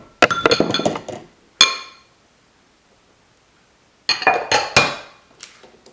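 Light glassy clinks and taps from flour being mixed in a glass bowl, with a dense burst of clinking, a single sharp knock, a long pause, then another cluster of clinks, close and fairly loud.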